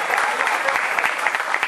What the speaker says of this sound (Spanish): Un aplauso al Señor una vez más.